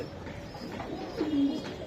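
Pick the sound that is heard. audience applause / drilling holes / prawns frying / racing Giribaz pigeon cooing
racing Giribaz pigeon cooing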